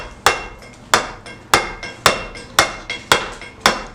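Steel hammer striking a chisel in traditional stone carving: seven sharp, ringing metallic hits land about every half second in a steady rhythm, each one decaying quickly. The hits are close and loud, and nobody speaks.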